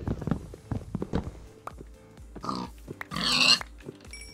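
Pig grunts from Minecraft follow a run of footstep thuds, with a brighter squeal-like burst near the end; the game sounds are fairly close and no one talks over them.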